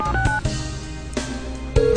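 Telephone dialing in the video game Tokimeki Memorial comes through as a rapid run of electronic keypad tones. Short beeps of different pitch follow one another with brief gaps between them, clear and close, with no speech.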